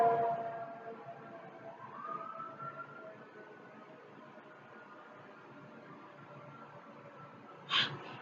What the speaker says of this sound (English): some sort of siren always gotta go by my damn house